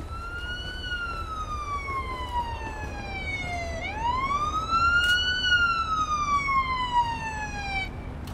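An ambulance siren in the Police Simulator: Patrol Officers video game, a clear wailing tone that falls and then rises again over a low background rumble, fairly faint.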